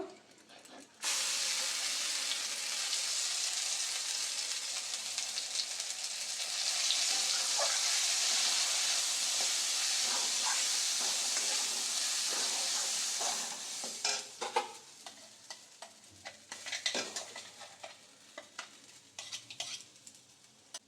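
Ground green pea paste hits hot oil in a wok already holding nigella seeds and asafoetida, bursting into a loud, steady sizzle and hiss that later thins out among scraping stirs.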